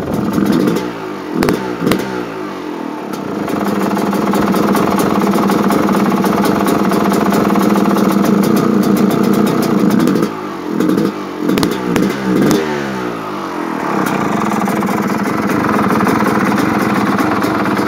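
A 1989 Suzuki RM 250 two-stroke motorcycle engine runs cold with the original 2-stroke oil still in it, giving a loud, close, uneven idle with rapid popping bursts and clattery revs.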